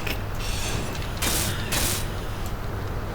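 Grinder tool cutting down a ship block in Space Engineers, a steady mechanical whirring and scraping hum that runs the whole time, with two brighter grinding bursts in the middle.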